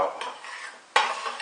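A spoon working a thick flour roux around a pan on the stove, scraping in two close strokes, the second louder, with a light sizzle between.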